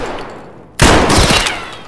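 Gunfire in Escape from Tarkov, a sudden loud close burst of shots that breaks a quiet moment and then rings out and decays over about a second, with no voices.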